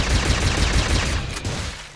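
Enemies shooting in the video game Space Robinson, a rapid, loud stream of repeated gunfire pulses that keeps going for the full two seconds with no voices.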